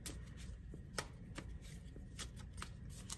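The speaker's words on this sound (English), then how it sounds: "So I will continue shuffling for their thoughts regarding that High Priestess card." Tarot cards shuffled by hand in a reading, quick papery riffles and taps repeating in an irregular rhythm, close and soft with no voices.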